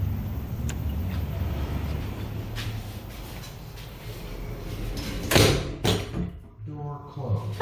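An automatic public toilet door in New Zealand slides shut with a sharp knock and a short rattle, standing out over a steady low hum.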